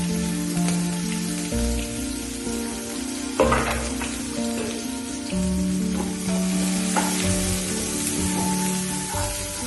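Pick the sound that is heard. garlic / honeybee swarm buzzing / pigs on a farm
garlic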